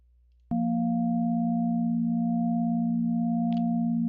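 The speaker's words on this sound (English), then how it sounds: "the reference note F3 and its fourth partial will sound, B flat 3 and its third partial will sound" Steady electronic reference tone at F3 sounding together with B flat 3, their matched partials beating against each other in a slow pulse; a sustained, even pitch that starts abruptly and holds, with a brief click partway through.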